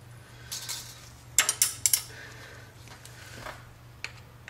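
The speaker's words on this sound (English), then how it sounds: "I'm gonna try to hold the screw in place and tighten it up" Wrench on a valve adjustment screw of an Acura Integra B18B engine, a few small metallic clicks and ticks in quick succession, faint and close, over a low steady hum.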